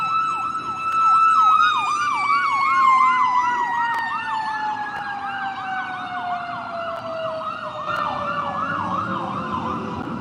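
An emergency vehicle siren wails in a rapid yelping pattern, loud and fairly near, its pitch sliding steadily downward as it passes, with faint road noise beneath.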